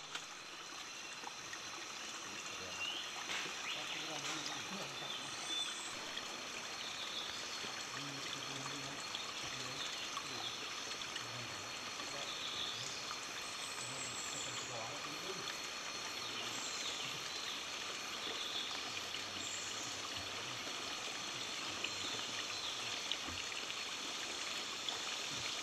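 A stream of running water at an expedition camp on Panay in the Philippines, heard as a steady, close rushing and trickling wash that continues without a break for the whole stretch, with no voices.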